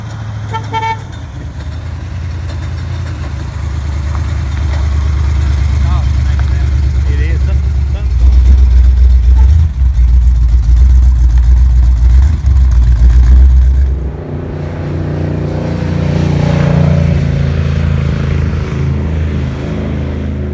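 A 1980s big block Camaro engine runs rough on a test drive, a steady low rumble that swells and fades beneath someone talking, with a brief horn-like toot near the start.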